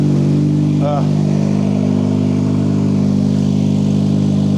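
A Mercedes-AMG GLA45 idles in comfort mode just after starting, a loud, steady, low engine hum with a brief higher whine near the start.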